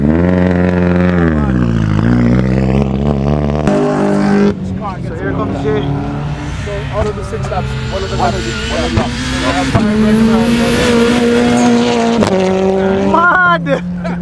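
A powerful rally car engine revs hard and climbs through gears on a rally run in Antigua, roaring loudly close by with shifting pitch and a brief tire squeal, voices faintly in the mix.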